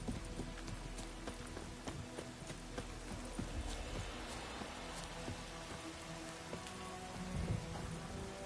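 Steady rain hisses down across the fields in The Witcher game, a dense continuous patter with scattered sharper drops and a low rumble beneath, holding even throughout with a brief swell near the end.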